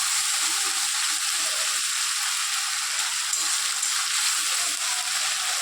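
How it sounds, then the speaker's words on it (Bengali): Ground spice masala for a vegetarian chana masala fries in a pan over lowered heat, giving a steady, close hissing sizzle that runs unbroken for several seconds with no talking. "এবার আমি মশলাটাকে ভালো করে ভাজা ভাজা করে নেবো"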